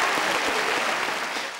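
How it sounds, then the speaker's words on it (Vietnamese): Brief burst of audience applause during a Vietnamese comedy sketch, a dense, even patter of many hands that fades slightly toward the end. "Vỗ tay thì vỗ to lên."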